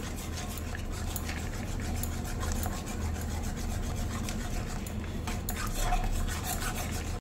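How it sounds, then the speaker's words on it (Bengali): Amulya powdered milk being stirred into milk in a pot over low heat, a steady rubbing, scraping stir against the pot under faint background hiss. "আমি আমুলিয়ার পাউডার দুধটা একটু একটু করে দিয়ে নাড়ছি।"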